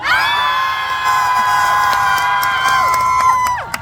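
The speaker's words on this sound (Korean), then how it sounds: "여러분들께서 박수와 함성을 한번 보내주시면 되는데" Crowd at an outdoor concert in Uiseong for a national geopark certification event, cheering, shouting and clapping loudly and steadily, with sustained high tones ringing over the roar.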